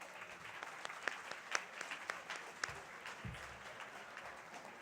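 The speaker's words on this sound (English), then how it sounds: "Let's give them another round of applause." Applause at a fundraising gala for an Andean and Latin American jazz fusion ensemble, a moderate patter of clapping from a modest crowd with a few sharper claps standing out near the front.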